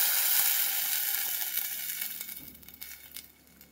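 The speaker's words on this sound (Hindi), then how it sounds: "मिरसांग बरी परतून घेवपाची।" Chillies being sautéed in a pan for a no-onion, no-garlic Goan ambot tik curry, giving a steady close sizzle that slowly fades, with a few crackles and stirring scrapes near the end.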